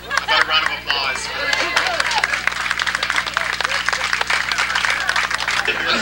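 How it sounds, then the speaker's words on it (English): A crowd at a university health and technology center groundbreaking ceremony bursts into loud, sustained clapping and applause close by, with scattered voices and chatter mixed in throughout. "How about a round of applause?"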